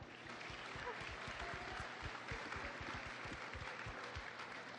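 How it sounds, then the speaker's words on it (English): Audience applause at a BlizzCon 2016 live presentation, a large crowd clapping steadily and densely throughout, loud and continuous with no pause. "give yourselves a big round of applause"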